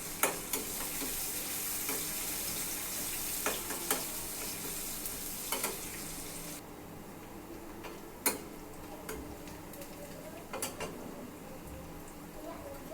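Chopped onions frying in a pan give a steady, dense sizzling hiss, broken by occasional light clicks and scrapes of a spatula stirring them.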